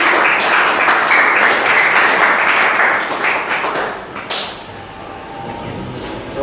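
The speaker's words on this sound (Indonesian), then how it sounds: "Beri tepuk tangan pada kelompok 2." A group of listeners claps loudly for a group presentation, the applause fading and thinning out toward the end.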